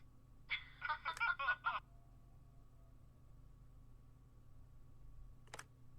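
A telephone ringing in the game The Wolf Among Us, one warbling electronic ring burst, close and clear, followed by a single sharp click a few seconds later.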